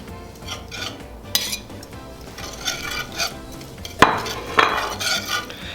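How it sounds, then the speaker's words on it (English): A whisk scrapes steadily around a pan of roux-based gravy with meat and cream, made for biscuits and gravy, with a couple of sharper metallic clinks against the pan near the end. No one speaks. "I'm just gonna keep whisking this until it comes to a boil"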